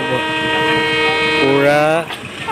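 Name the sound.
train passing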